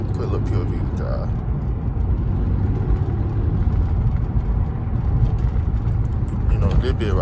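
Dodge SRT cruising on a road, heard from inside the cabin as a steady low engine and road rumble that holds through the whole stretch, with people talking over it.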